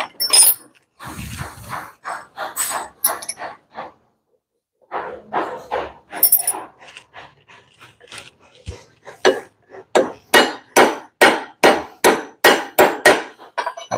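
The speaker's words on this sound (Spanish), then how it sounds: "Vamos a traernos un cincelito para poder hacer la extracción." A hammer strikes a chisel to extract a Volkswagen Worker fixed-train gear with sharp metallic blows, first in scattered groups, then in a steady run of evenly spaced loud hits near the end.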